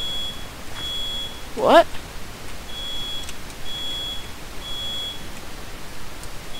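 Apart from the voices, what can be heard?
smoke alarm beeping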